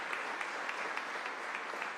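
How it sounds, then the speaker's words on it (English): Audience applause at a civic event in Albany, steady dense clapping from a crowd, moderately distant and even throughout with no voices over it. "Let's give him a round of applause"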